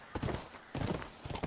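Horse hooves clip-clop in The Last of Us Remastered, two short bursts of quiet, close hoofbeats separated by a brief gap.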